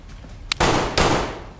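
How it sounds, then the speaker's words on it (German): Two sharp gunshot bursts in the video game DayZ on PlayStation 4 ring out about half a second apart, loud and close, with a brief click before them and a lingering noisy tail. "Schüsse."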